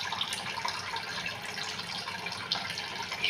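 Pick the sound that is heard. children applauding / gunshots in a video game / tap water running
tap water running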